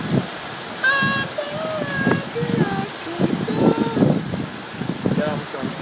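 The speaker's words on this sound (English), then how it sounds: "It's raining sideways!" Heavy wind-driven rain pours down in Arizona, a loud continuous hiss and patter while several people talk over it.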